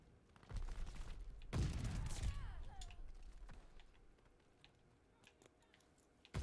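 Gunfire around a hard point in a multiplayer shooter video game, a sharp loud burst followed by scattered distant shots and clicks amid game noise, with a brief voice in the mix.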